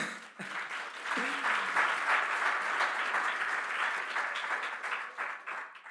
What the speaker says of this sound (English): let's do a big round of applause for all of them